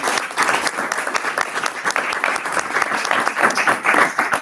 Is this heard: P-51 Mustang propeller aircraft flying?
no